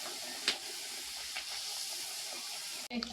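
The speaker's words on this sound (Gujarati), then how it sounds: "હાલો તો હવે ગરમા ગરમ પૂરીઓ તરાય છે" Puris deep-fry in hot oil during an Uttarayan kite-festival gathering, a faint steady hiss of bubbling oil with a couple of soft clicks and a brief crackle near the end.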